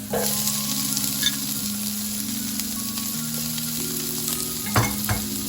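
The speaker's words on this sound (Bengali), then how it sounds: "রসুন আমার বাদামি কালার হয়ে গেছে, এখন আমি পেঁয়াজ দিলাম।" Onions added to browned garlic frying in oil in a pan, steady close sizzling with faint stirring and a couple of utensil knocks near the end.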